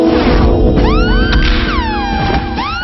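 The siren effect from Kill Bill (2003): a wailing siren sweeps up and down in pitch over a dense, busy music bed, loud and continuous throughout.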